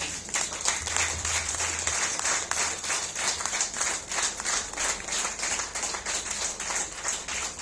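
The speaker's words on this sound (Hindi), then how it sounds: "ये ताली भी उनको समर्पित है।" Sustained audience applause fills a spiritual social wing gathering hall in Paschim Vihar, a dense, steady wash of many hands clapping close and loud without pause.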